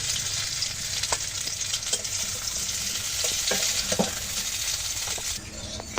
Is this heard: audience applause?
no